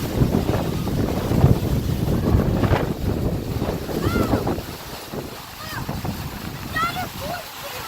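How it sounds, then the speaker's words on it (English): Strong wind from a night windstorm roars and buffets steadily across the recording, with broadband gusting noise throughout, easing slightly toward the end. "I'll put in a clip right now of how windy it got last night."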